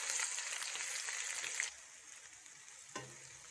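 Cinnamon, cloves and whole green chillies frying in oil for chicken karahi: a faint hiss of sizzling that drops off partway, followed by a single soft clink, with no speech.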